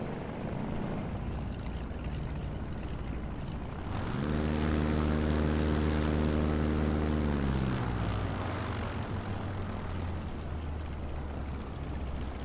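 The propeller engine of a P-51A Reno race plane in a flight simulator drones under steady wind noise, swelling into a strong tonal roar midway and then easing back to a lower, fainter hum.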